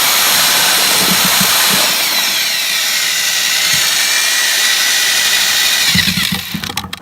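Concrete patch mix blended with a polymeric additive and lime, churned by a power mixer that gives a loud, steady whirring grind for about six seconds before it tapers and breaks up at the end.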